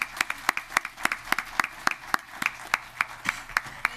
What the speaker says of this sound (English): give me a clap for them